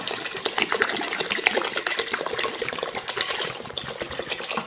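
Water poured from a stream into a pressure cooker over pinto beans, a steady splashing, bubbling pour that runs continuously at moderate loudness, with no voices.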